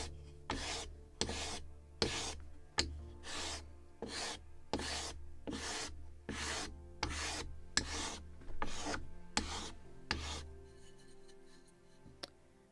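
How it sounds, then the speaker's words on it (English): Sanding block worked back and forth along a wooden spar for a Model Shipways kit of the 1776 gunboat Philadelphia, about fifteen evenly spaced rasping strokes close up, alone and steady, ending with a few light taps. "Because I can hold it and it's easier with sanding block"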